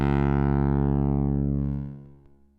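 A Mangrove eurorack oscillator produces a steady, harmonically rich drone, loud and alone, whose bright upper overtones sweep downward before the tone fades out over the last second.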